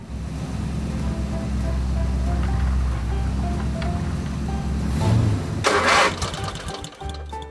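Engine of a toy LEGO motorhome cranking to life as a sound effect, a steady low engine rumble building to a louder burst near the end, heard alone with no talk.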